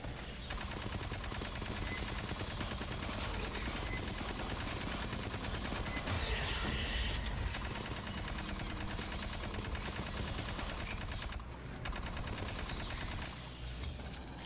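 Sustained automatic gunfire from the Aliens: Fireteam Elite video game, a dense continuous fusillade of rapid shots running the full length with a heavier burst near the middle and a brief dip toward the end.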